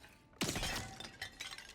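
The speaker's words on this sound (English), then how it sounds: "We'll smash more of these pots." Clay pots smash in the Goblin Caves of the Dark and Darker video game, one sharp crash followed by a scatter of rattling, clinking shards that fades out over a second.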